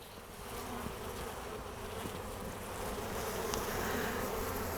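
A dense, steady buzzing of many bees hums close by, with occasional soft clicks and handling noise and no speech.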